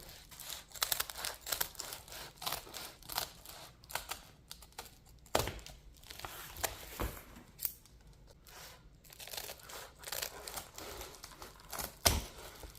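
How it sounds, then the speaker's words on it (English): Cutting material along marked measuring lines, heard as a series of close, crisp snips and scratchy crinkling bursts in an irregular rhythm, fairly quiet, with no talking. "Okay, now we're going to cut."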